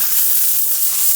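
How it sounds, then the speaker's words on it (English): Steam cleaner releasing a steady, loud hissing jet during auto detailing, continuous and unbroken with no talk. "It's flashing green, and we're gonna continue to steam this."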